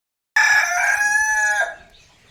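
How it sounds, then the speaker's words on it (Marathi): A rooster crows once, loud and close, in a farm shed where chickens are kept; the long harmonic call lasts more than a second and then trails off into quiet, with no talking. "आपल्या कोंबड्यांचा आवाज सारखा असंच चालू असतं यांचं"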